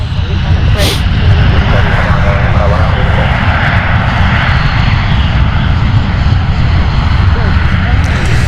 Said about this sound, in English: Was flying in from Kazakhstan. It's Airbus A330.